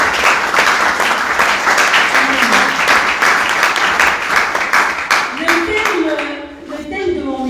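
Church congregation clapping and cheering to acclaim the Lord during a service, loud sustained applause throughout with voices calling out over it, fading slightly near the end as a speaking voice returns.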